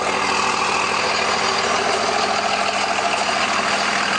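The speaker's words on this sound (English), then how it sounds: "It's got really nice Cummins sound coming out of the exhaust." A big Cummins diesel truck engine idling up close, a loud, steady rumbling exhaust drone with an even, smooth rhythm and no voices.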